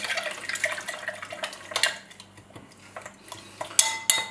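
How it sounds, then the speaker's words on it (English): A spoon stirs sugar into a mojito in a glass, with light clinks and scrapes of metal against glass in irregular bursts, close and fairly loud, with a few sharper taps near the end. "now give it a little stir, because you don't want all the sugar to sit at the bottom"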